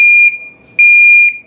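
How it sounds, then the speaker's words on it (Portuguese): Firefighter breathing apparatus motion alarm sounding after the wearer stays still for 30 seconds: loud, piercing steady electronic tone pulsing in two long bursts with a brief dip between, alone without talk. "Ele vai começar um alarme."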